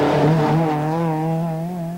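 Opel Manta rally car on a stage of the 1984 Donegal International Rally, a loud close engine scream holding a high rev and then easing down slightly as the car passes and fades.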